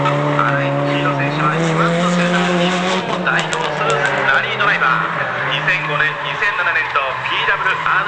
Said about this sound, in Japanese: この車はインターコンチネンタルラリーチャレンジ仕様のラリーカーです